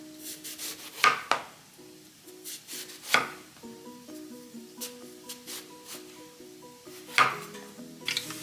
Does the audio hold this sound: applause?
no